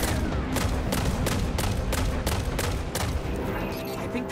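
Steady rhythmic gunfire in Destiny: Rise of Iron during a story mission, evenly spaced loud shots repeating about every third of a second over a dense rumbling combat bed.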